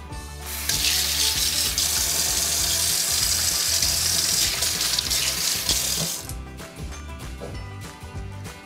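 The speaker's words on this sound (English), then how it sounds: "Give the hands a little wash." Hands washed under a running kitchen tap while cooking seafood laksa: a steady, loud rush of water streams for several seconds, then cuts off, leaving faint drips and kitchen clatter.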